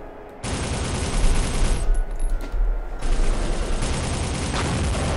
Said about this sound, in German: Der ballert doch einer hinter mir.